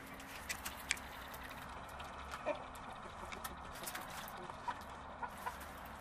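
A rooster clucks in short, scattered bursts inside a winterized chicken coop, quiet and a little distant, over a low background hum with a few sharp knocks.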